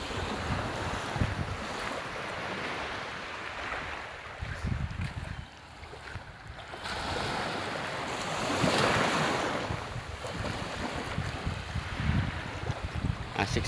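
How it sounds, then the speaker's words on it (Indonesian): Ocean surf rolls onto the beach at Biduk-Biduk, a steady wash of breaking waves with gusty wind noise buffeting the microphone, swelling louder around the middle and continuing without any talk. "Asik sekali suara gelombangnya."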